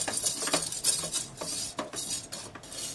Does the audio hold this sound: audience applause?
no